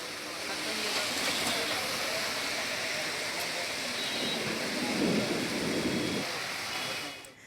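Pre-monsoon rain pours down steadily in a city at night, a dense continuous hiss with a low rumble swelling briefly near the middle, loud and unbroken throughout.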